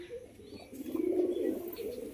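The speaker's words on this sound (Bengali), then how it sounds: "চোখ সাদার মধ্যে একজোড়া গিরিবাজ পায়রা শখ করাচ্ছি, দেখতে পাচ্ছেন।" A pair of Giribaz high-flying pigeons cooing in a cage, low throaty coos swelling and fading in a soft rolling pattern, close by with no talking.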